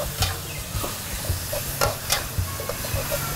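Rice noodles with pad thai sauce are stirred in a hot pan at a Bangkok street food stall, giving a steady sizzle broken by regular rhythmic scrapes and taps of the spatula, close by, no speech.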